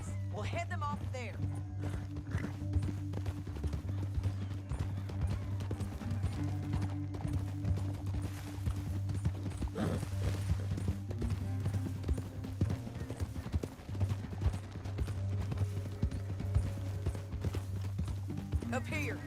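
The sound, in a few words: horse hooves clip-clop in a video game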